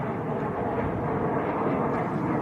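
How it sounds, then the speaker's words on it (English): A Loganair Embraer regional aircraft at Manchester Airport on a windy day makes a low, rumbling engine drone that holds steady at moderate distance, without any talking. "Logan Air Embraer."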